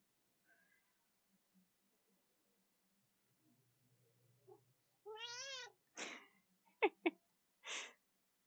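A cat lets out a loud, wavering scream followed by several short, sharp yowls in quick succession, close and alone after a quiet stretch.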